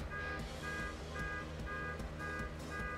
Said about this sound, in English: Do you really need that panic alarm?